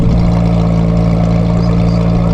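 A loud, steady engine rumble with a deep exhaust drone from a Hyundai Elantra N with a Valvetronic exhaust, continuous and close, with no talking.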